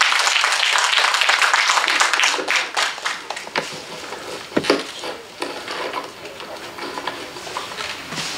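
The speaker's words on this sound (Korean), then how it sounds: "박수 부탁드립니다." Audience at a literary award ceremony clapping, a dense burst of applause that thins into scattered claps and fades toward the end.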